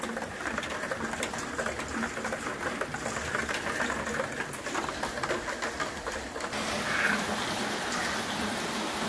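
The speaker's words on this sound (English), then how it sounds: "Ooh, it's starting to really come down now." Heavy rain at the start of hurricane season pours steadily outdoors near buckets and an umbrella, a dense continuous hiss that swells slightly toward the end, with faint bird calls mixed in and no talking.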